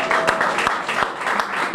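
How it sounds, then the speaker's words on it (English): Audience applause at a grand opening ceremony, a steady wash of many hands clapping filling the whole stretch at moderate loudness, with no voice over it. "give our young people a round of applause"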